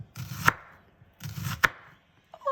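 A knife slices red onions thinly on a cutting board in two short bursts of quick, soft cuts, each ending in a sharper knock on the board, close and fairly quiet.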